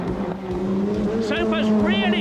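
Historic race car at about 135 mph going into Pilgrim's Drop, a loud sustained engine drone with shifting tone over the whole stretch, partly covered by commentary.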